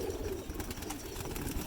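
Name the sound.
pigeons cooing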